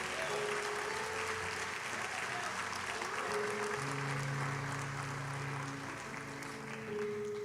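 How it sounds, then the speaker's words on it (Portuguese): A church congregation applauds continuously, a dense wash of clapping hands that stays steady for several seconds at moderate, slightly distant loudness, with a low hum underneath. "Você pode aplaudir o Senhor, você pode dar um glória a Deus."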